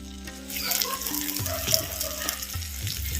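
Turmeric powder stirred into softened tomatoes sizzling in a pan for a dry fish gravy, a steady close frying hiss with faint scraping of stirring and no talk.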